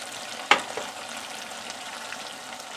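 BBQ beef sizzles in a pan with a soft, steady frying hiss, briefly sharpened by a single clatter near the start, then settling to a low even crackle.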